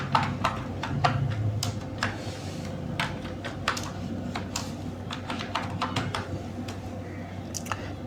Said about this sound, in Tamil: இன்னொரு அதே பாஸ்வேர்டை கீழே மறுபடியும் டைப் பண்ணுங்கள்